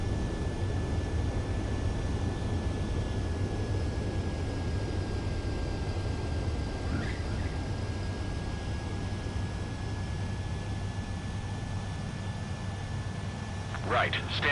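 Jet aircraft landing in the Ace Combat 7: Skies Unknown video game, a steady loud engine roar and broadband rush throughout with a brief thump near the end, under a voice talking.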